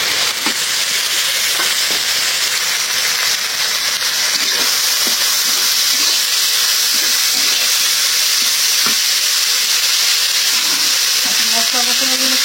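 Dried fish frying with ginger-garlic paste in a pan gives a loud, continuous, close sizzle and hiss that holds steady throughout with faint stirring scrapes.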